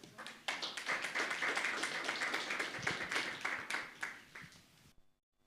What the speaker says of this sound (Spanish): vamos a recibir con un fuerte aplauso a los de coro